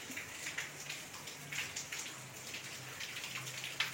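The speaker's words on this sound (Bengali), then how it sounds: "এবার উঠে বৃষ্টি কমে গিয়েছে, আর পড়ছে এখন বৃষ্টি" Light rain patters steadily, a soft continuous hiss of drops with scattered nearer taps on a surface, faint and even throughout, with no voices.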